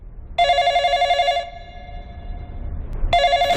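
An old-style telephone bell rings in two loud bursts, a long trill followed by a pause and the start of another ring, alone with no talking.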